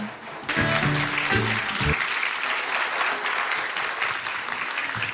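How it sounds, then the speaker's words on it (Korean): Applause from a forum audience at the opening ceremony of an AI global forum, starting abruptly and holding as a dense, steady clapping wash after a brief tonal sound at the start. "다시 한번 큰 박수 보내주시기 바랍니다"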